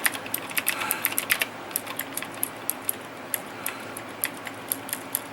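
Keys on a Dolch luggable computer keyboard with Cherry-type switches are typed on up close, giving crisp irregular clicks, quick bursts at first, then slower spaced presses.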